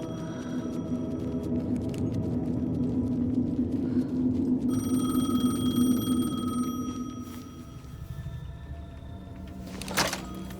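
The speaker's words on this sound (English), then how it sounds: "The payphone was ringing." A payphone rings in the video game Alan Wake 2, its electronic bell tones sounding partway through over a low, droning ambient hum, followed by a brief sharp noise near the end.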